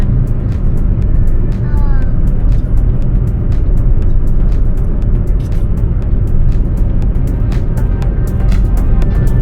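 Steady road rumble from a car being driven, heard from inside, continuous and fairly loud throughout with a faint tonal whine in places.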